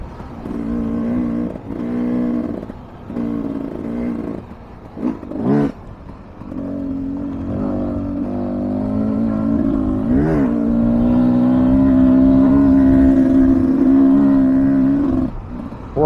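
A 2023 Beta 300 Race Edition two-stroke dirt bike on a test ride revs in short bursts, then pulls in one long rising drone that holds loud and close before easing off.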